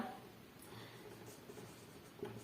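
Soft scratching of pen or pencil on paper as a math problem is written out, faint and close, with a few small taps and no talk.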